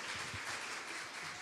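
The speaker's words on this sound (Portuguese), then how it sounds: "Aplaudir Jesus na vida dele." Studio audience applause for a guest arriving on a Portuguese-language talk show, a short, even burst of clapping at moderate level with no talk.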